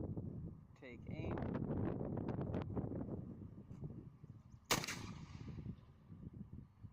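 A Traditions St. Louis Hawken muzzleloader rifle fires a single loud, sharp outdoor shot partway through, with a brief rolling echo afterward and someone talking before it.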